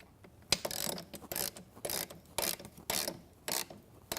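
Bolts being tightened on a reformer bracket with a ratcheting tool, a series of short rasping ratchet strokes in an uneven rhythm, close and fairly faint, with no talk.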